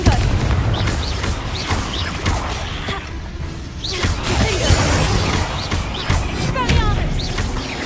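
Confringo blasting spells fire off in Hogwarts Legacy, a string of sharp booms, whooshes and crashing hits scattered through busy combat, with voices speaking in between.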